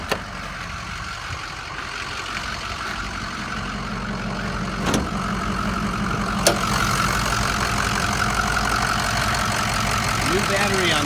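A 2005 Ford F250 diesel 4x4 pickup cranks and settles into a steady, clattering idle, loud and close, with a couple of sharp clicks and a voice talking over it.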